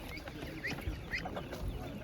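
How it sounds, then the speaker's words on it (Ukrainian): A duck at a market quacks faintly in a few short calls amid low background bustle. "Ось така гарна качка."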